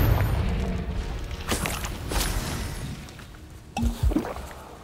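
A Confringo spell blast in Hogwarts Legacy hits with a sharp shattering burst, then fades under a dull rumble. A second, heavier impact thuds near the end.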